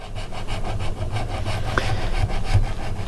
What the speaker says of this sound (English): you can take one of these style razor blades and just run it up here